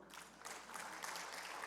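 Congregation at a Korean church service applauding, a dense, steady wash of many hands clapping that swells slightly after the start and holds for under two seconds, moderately distant and without voices.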